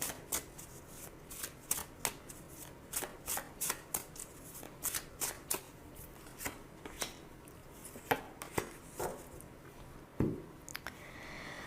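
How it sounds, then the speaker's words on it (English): Tarot cards are shuffled by hand in a quiet room, a steady run of crisp riffling flicks and slaps close to the mic, repeated roughly every half second for several seconds. "So now I'm going to choose 2 cards for possible outcome."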